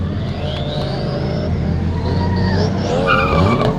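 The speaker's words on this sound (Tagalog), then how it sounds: "Grabe yung mga tunog ng sasakyan dito." Drift cars skid around Tarlac Circuit before a drift competition, tires squealing in long, wavering screeches over loud engine roar, with rising and falling pitch as the cars slide past nearby.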